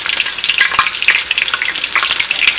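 Cheese-filled hot dogs wrapped in tortillas crisping in hot oil in a pan, a close, busy crackling sizzle with bursts of popping throughout.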